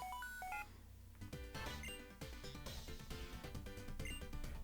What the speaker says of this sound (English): Oh, phone's going off.